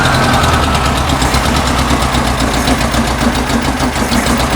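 Air-cooled engine of a 1974 VW Beetle with points ignition idling just after starting, a loud, steady, close rumble with a fast rhythmic knocking pulse and no talk.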